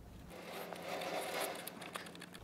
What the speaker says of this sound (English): I'm just gonna simply cut down through here